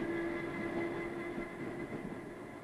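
S-Bahn commuter train in East Berlin running, a faint steady rumble with a sustained tonal whine, even and continuous, heard from inside or close by without voices.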